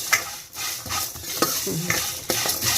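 Food being stirred in a pan on a home kitchen stove, a steady scraping rhythm of utensil against pan over a soft sizzle, close and moderately loud, with no talking.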